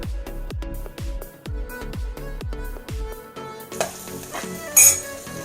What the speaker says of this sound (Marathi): आता आपण कढीपत्ता आणि मिरची घालून घेऊया आणि ती सुद्धा चांगली तेलावर परतून घेऊया।